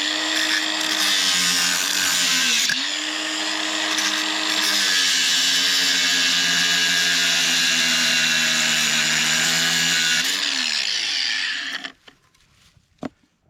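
Battery-powered grinder cutting a radius rod during a trail repair on a Can-Am X3, a loud, sustained whine with brief pitch dips as the load shifts, stopping near the end with a few clanks.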